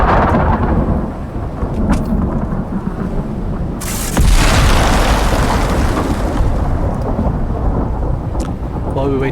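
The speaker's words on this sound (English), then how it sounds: "These storms are something else." A heavy thunderstorm rolls through a forest in the game Icarus, with steady loud rain and a sharp close thunderclap that breaks into a long rumbling roar.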